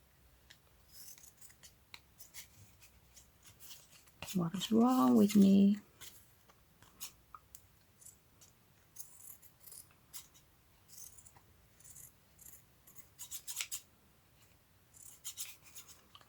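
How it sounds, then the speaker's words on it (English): Fabric scissors cut through craft material in a quiet room, making faint, sparse snips and rustles. A brief burst of speech stands out midway. "I need to use my fabric scissors for this."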